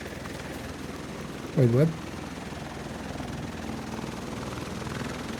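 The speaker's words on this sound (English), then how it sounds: "Why am I hearing chopper? Chopper is inbound." A helicopter in a multiplayer shooter video game gives a steady, rumbling rotor drone throughout, while a voice briefly speaks over it.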